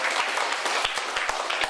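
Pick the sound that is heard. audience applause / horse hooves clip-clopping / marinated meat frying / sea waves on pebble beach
audience applause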